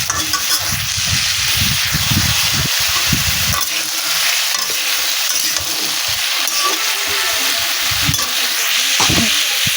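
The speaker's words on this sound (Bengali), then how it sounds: "আলু দিয়েছি তো বন্ধুরা আমি একটু নাড়াচাড়া করে নেবো" Potatoes and ridge gourd sizzle steadily in a pan while a spatula scrapes and stirs in repeated bursts, close and fairly loud throughout with no talking.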